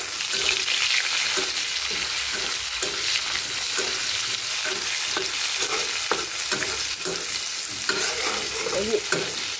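Onions go into hot oil with whole cumin for a duck curry, frying in a pan with a steady, loud sizzle and repeated stirring scrapes throughout.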